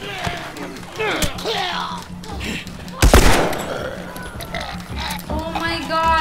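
Gunfire in The Last of Us, with a sharp shot and bursts of rapid fire amid game effects, while a player talks excitedly over the action.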